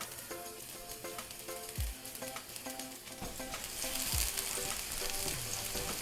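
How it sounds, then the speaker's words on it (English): Garlic stir-frying in a pan ahead of beef and onion, a steady close sizzle with scrapes and clacks of stirring throughout, swelling louder toward the end; no voices. "So now, on the same pan, I'm gonna stir fry the vegetables."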